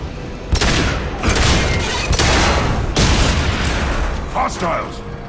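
Weapon fire in the sci-fi shooter Mass Effect 2 comes as loud, close bursts of rapid shots and booming impacts, broken into several volleys over a few seconds with voices shouting in between.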